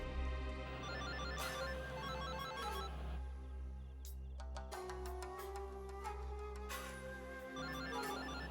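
A telephone rings through repeated electronic ringtone bursts over a low hum and background music in a dubbed drama scene. No one speaks.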